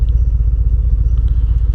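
A 2025 Harley-Davidson Fat Boy in Grey Ghost finish, with stock air intake and exhaust, idles close up with a deep, steady, pulsing low rumble and no voices over it.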